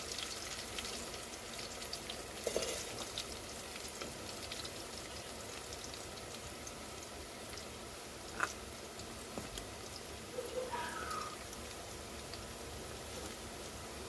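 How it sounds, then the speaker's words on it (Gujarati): Chopped onions sautéing in a pan, giving a steady soft sizzle and crackle that runs throughout with a few small clicks and pops. "ડુંગળીનો કલર ગોલ્ડન ના થઈ જાય, પિંક ગોલ્ડન, ત્યાં સુધી તેને સાંતળી લેશું"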